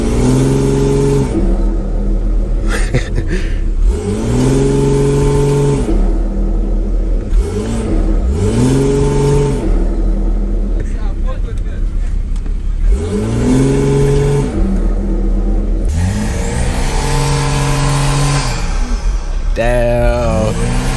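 A BMW E92 335 with the N54 engine and a front-mount intercooler revs hard in repeated loud rising and falling sweeps, heard up close with voices talking over it.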